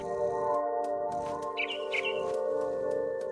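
Two quick, high bird chirps from the video game What Remains of Edith Finch, set up in a big tree, ring out over a steady droning tonal backdrop of game ambience and music.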